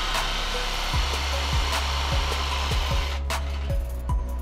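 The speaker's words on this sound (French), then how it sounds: "Avec une simple scie sauteuse ou une scie à main," Jigsaw cutting a notch in an Indifloor rigid vinyl floor plank, a loud continuous motor whine with a rhythmic rasping stroke repeating roughly twice a second, close and alone.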